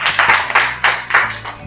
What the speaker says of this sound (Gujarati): બસ તાળીઓ ભાઈ માટે.